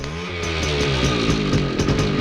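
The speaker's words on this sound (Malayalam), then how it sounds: "ബൈക്ക്." A motorcycle engine revs loudly and close by, a buzzing, rising drone with rapid rhythmic pulses.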